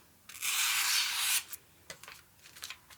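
A knife blade is drawn across a Tormek T-1 kitchen knife sharpener in one long gritty stroke, followed by a few short light scrapes, close and crisp.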